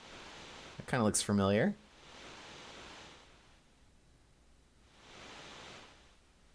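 Surf waves in Final Fantasy 6 Advance, heard as soft, hissing swells of washing water that rise and fade twice, with someone talking briefly just before the first one.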